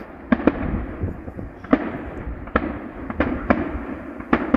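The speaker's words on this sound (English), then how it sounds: "They certainly ain't skimped this year on the firework display" Bursts from a town fireworks display at Rhyl pop and crack in irregular succession, about nine sharp bangs over a continuous rumbling backdrop, heard from some distance.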